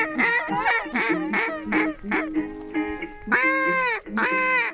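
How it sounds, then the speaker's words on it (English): Ducks in a Woodland, California hunting marsh calling back to a guide's duck call, a run of loud, nasal honking quacks in quick bursts with a few longer drawn-out calls, close and overlapping throughout. "It was an amazing experience watching Jason call the ducks because they were actually calling."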